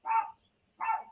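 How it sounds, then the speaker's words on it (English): A dog barks twice close by, each bark a short full burst separated by a brief silent gap, with no talking around it. "sorry, my dog is barking"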